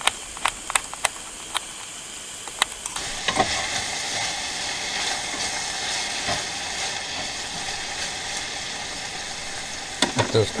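Food sizzles in a pan on an RV stove while taco bowls are being made, a steady crackling hiss that swells louder partway through, with occasional clanks of a utensil against the pan.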